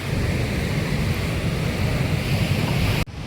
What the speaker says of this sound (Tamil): இது நல்லா அமைதியாக போகுது ஆனால் சலசலன்னு சவுண்ட் தான் கேட்குது